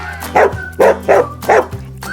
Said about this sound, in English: Yes, it's a dog.